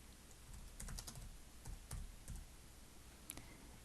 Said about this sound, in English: I'll type the words Fast Blur.